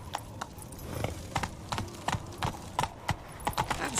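Horse hooves clopping in The Witcher, a run of sharp, fairly even thuds at moderate loudness over a low game background, with no talk.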